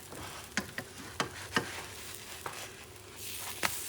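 Pancakes frying in a pan as they are flipped, a soft steady sizzle punctuated by several sharp clicking taps of the spatula against the pan, fairly quiet and with no talking.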